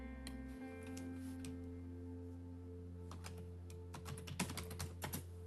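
Computer keyboard typing during a data-graphing session, a quiet burst of quick clustered keystrokes near the end after a low steady hum, with no talking.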